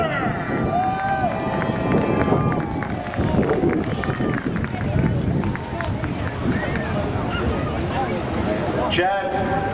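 A speedway crowd at Seekonk Speedway cheers and applauds a Sportsman race winner in victory lane. Dense clapping and crowd noise fill the scene, with voices mixed through it.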